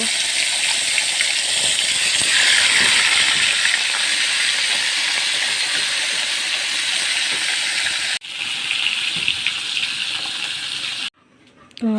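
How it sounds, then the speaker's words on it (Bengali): Spiced rohu fish pieces fry slowly in hot oil, a loud, steady hissing sizzle that carries on for most of the stretch, briefly dropping and resuming near the end. "এখন আমি মাছ আস্তে আস্তে ভেজে নেব।"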